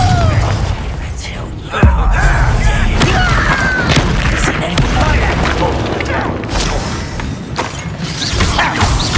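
Hogwarts Legacy spell combat, with booming blasts, shattering impacts and crackling magic bursts in dense succession, loud and continuous, with a voice shouting spell names over the fighting.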